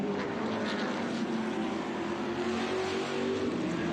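TA2 race cars run side by side at Mid-Ohio, a continuous loud roar of several engines passing on the circuit, steady and droning throughout with no voices over it.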